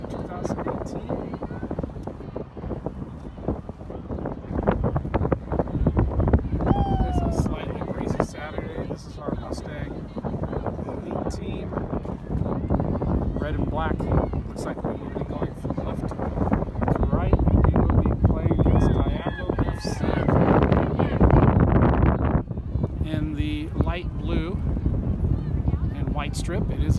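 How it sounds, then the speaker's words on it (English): Gusty wind buffets the microphone with low, rumbling roars throughout at an outdoor soccer match, while a voice talks beneath the noise. "It is a bit windy out here. Hope you guys can hear me over the noise."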